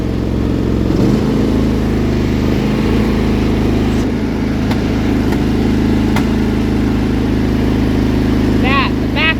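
An engine idles with a rough, uneven rumble, broken by a few sharp popping backfires, close by with some background noise.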